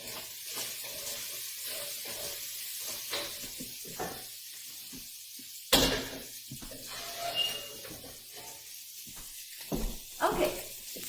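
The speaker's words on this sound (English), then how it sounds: "We're going to stir again the veggies and pancetta, and then we will add it in here." Vegetables and pancetta sizzle in a pan, a soft continuous hiss broken by scraping stirs and a few louder bursts, heard under intermittent talking.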